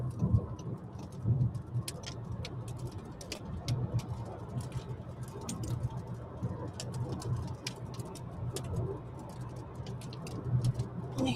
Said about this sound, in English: You can hear the hail as it's hitting the windscreen.